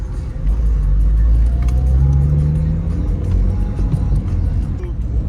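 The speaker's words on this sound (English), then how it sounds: "Ah, I see a car." A car passing on a quiet coastal road near a nature reserve, a loud steady engine rumble and tyre roar close by with faint voices underneath.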